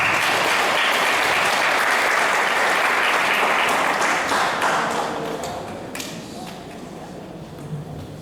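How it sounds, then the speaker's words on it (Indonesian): A church congregation at a Sunday morning worship service applauds, with loud, dense clapping for about five seconds that then fades into scattered claps and room noise. "Terima kasih tepuk Tuhan Yesus"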